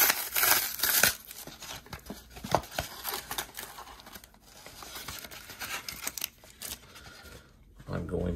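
Sealed trading card packs are torn open close up, with crinkly foil ripping and crumpling in bursts and brief pauses between pulls.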